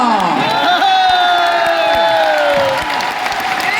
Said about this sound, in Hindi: वाह वाह वाह वाह वाह, तालियां